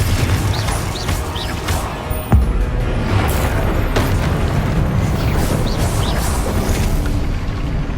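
A fire spell blast in the Hogwarts Legacy game, a loud booming burst with a sharp crash partway through, riding on a dense, continuous roar of game effects and ambience.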